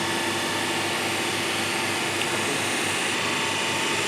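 A separately excited DC shunt motor runs during a generator load test, with a loud, steady whirring hum that holds constant throughout and no voices.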